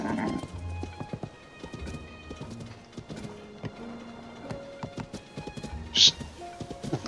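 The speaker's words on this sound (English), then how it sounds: "Horse is being a weirdo." A horse clip-clops at a steady gait in Legend of Zelda: Tears of the Kingdom, with quiet hoof beats running through game audio and a brief whinny near the end.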